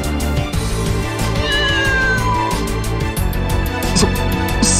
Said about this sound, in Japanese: その猫は？